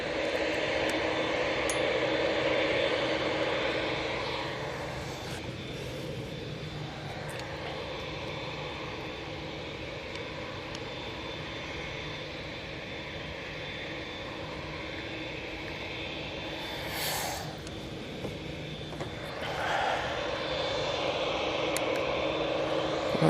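A Boeing Dreamliner jet at Manchester Airport produces a steady, moderately distant engine roar that holds through the whole stretch, with a few faint clicks and bumps near the end.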